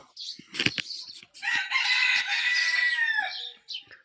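A rooster crows loudly and close by in one long drawn-out call, with short clucks and a burst of wing flapping just before it.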